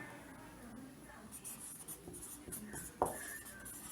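Pen or chalk scratches out handwriting in soft, irregular strokes and taps during a chemistry lesson, faint and close, with a sharper tap near the end.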